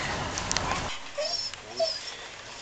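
Dogs whimper and yip aboard a boat during a harbor maneuver in Majorca, a few soft, brief whines rising over steady low background noise.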